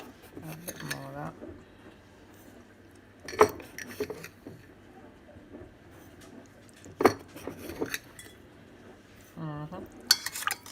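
A spoon clinks and scrapes against a cup while stirring sugar into peppermint tea, a few sharp metallic taps and rattling bursts between quiet stretches, with a voice speaking now and then.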